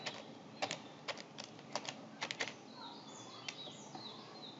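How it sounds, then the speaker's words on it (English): Password typed on a computer keyboard, quiet irregular key clicks in short bursts over faint background chirps, with no talking. "type the password"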